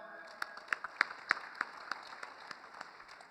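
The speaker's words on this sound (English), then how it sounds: "So, big clap for them." Scattered, fairly faint hand claps from a small audience at a cement industry net-zero panel discussion, about eight distinct claps spread irregularly over a steady hum in a hall, thinning out toward the end.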